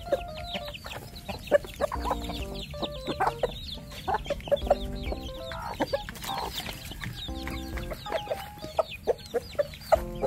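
Black Australorp chickens cluck and chatter close by while pecking at leaves, with busy overlapping calls and an occasional crow amid soft scratching.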